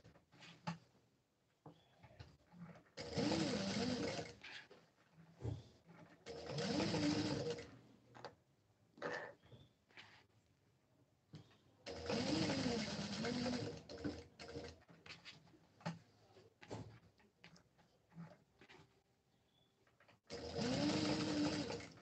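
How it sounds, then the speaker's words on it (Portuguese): Sewing machine stitching a fabric face mask of silk and cotton tricoline in layers, running in several quick bursts with short pauses between, close and clear. "Já tô terminando de costurar aqui."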